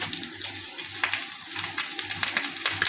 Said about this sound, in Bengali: কলা পাতাটা মোটামুটি একটা পিঠ ভাজা হয়ে গেছে, এবার আমি উল্টে দিচ্ছি যাতে ওই সাইডটাও ভাজা ভাজা হয়ে যায়